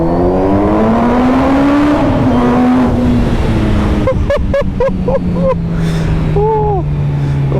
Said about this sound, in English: Oh, I've missed that noise. Sounds incredible.